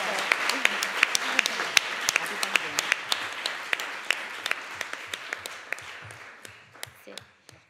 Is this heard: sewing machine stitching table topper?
no